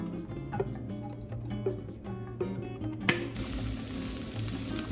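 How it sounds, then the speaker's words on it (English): Peppers sizzle and crackle steadily in olive oil close by, with light clicks and stirring sounds, growing into a brighter, hissing fry partway through. "once we start to hear the sizzling"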